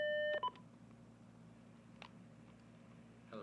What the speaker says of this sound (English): Well, wait, line one's beeping.